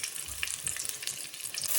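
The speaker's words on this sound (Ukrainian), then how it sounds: "Обмакнемо з усіх сторін у яйця і на сковорідку смажитися." Artichokes dipped in egg fry in a pan with a soft, steady sizzle and faint crackles, close and fairly quiet.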